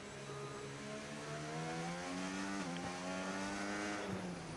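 A race car in Project Gotham Racing on an Austria track spins out, its steady engine drone holding loud throughout with a brief tire squeal midway and pitch shifting as the car rotates.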